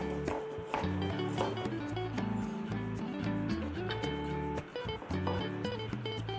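A knife chops fresh ginger and galangal for a kampung-style Javanese chicken curry, with steady, fairly close cuts on a board set under continuous background music.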